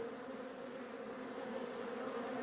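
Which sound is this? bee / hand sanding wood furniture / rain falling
bee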